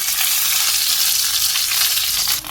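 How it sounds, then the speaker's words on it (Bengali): Continuous loud sizzling of an egg frying in a hot pan, steady and close, with no talking. "তো ডিমটা ভালো করে ভাজা হয়ে গেছে"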